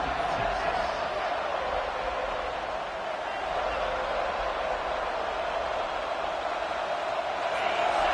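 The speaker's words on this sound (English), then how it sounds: "Here comes this home crowd as the defense tries to get off the field on third down" A home crowd at a college football game, Florida State against Texas, roars steadily on third down as the defense tries to get off the field. The dense, loud stadium noise holds throughout with a commentator talking over it.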